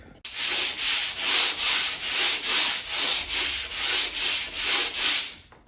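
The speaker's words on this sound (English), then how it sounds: "5 or 6 minutes sanding on it, and it's still there a little bit" Steady back-and-forth sanding of a particle board furniture finish, about a dozen even strokes in a regular rhythm, close up, with no voices.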